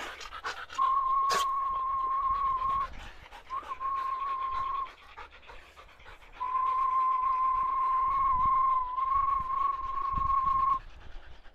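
A Weimaraner and a German hunting terrier pant steadily and close by for several seconds while a thin, sustained whistling tone runs over them, with brief pauses.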